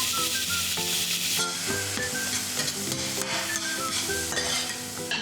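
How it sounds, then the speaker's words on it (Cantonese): Minced pork stir-fried in a hot wok with oil over medium heat: a loud, steady sizzle with repeated scraping stirs, accompanied by soft melodic music and no talking. "就可以放入免治豬肉炒至轉色"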